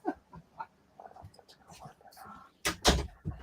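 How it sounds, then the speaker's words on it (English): A door is shut indoors, giving a solid close thump with a brief rattle near the end, heard after some quiet background murmur and rustling. "Let me shut this door so I can hear you folks."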